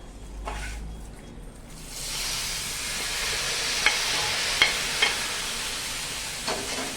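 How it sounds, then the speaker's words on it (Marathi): Hot tempering poured over simmering colocasia leaf curry bursts into a loud, steady sizzle and hiss, with a few sharp crackles and pops, no voices. "आता ही जी फोडणी आहे या भाजीवरती आपण घालूया"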